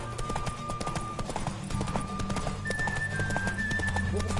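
Roach the horse gallops in The Witcher 3, its hooves clip-clopping in a quick, steady rhythm close by, set against game music.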